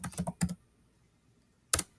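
A computer keyboard being typed on to enter a username, a quick burst of several close keystrokes, a pause of silence, then one more sharp key press.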